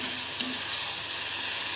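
Prawn curry with tomato paste, whipped yogurt and green chilies frying in a pan, giving a steady, close sizzle with faint stirring throughout and no talking.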